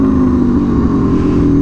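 An Aprilia Tuono V4 motorcycle engine held high in the rev range with the throttle open, a loud, steady, close-up drone with a faintly choppy texture from the quick shifter cutting aggressively.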